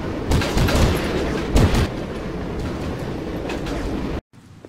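A train pulls out of a station in a World War–era video game, a loud rumbling, clattering wash with a couple of sharp bangs, cutting off abruptly near the end into quieter ambience.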